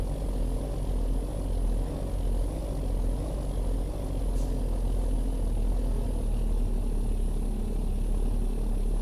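A Jasper W900 truck engine in American Truck Simulator drones steadily at low pitch, a continuous loud rumble with little change, heard alone without talk.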